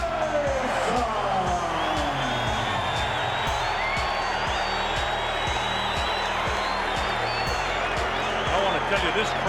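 A large boxing arena crowd roars and cheers for heavyweight champion Mike Tyson, a dense continuous wall of noise with shouts, whistles and applause, and a voice speaking over it.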